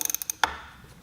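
Heybike Ranger e-bike rear wheel spun by pedaling while propped on its kickstand, giving a quick run of light ratcheting freewheel clicks followed by one sharper mechanical clack, close and quiet.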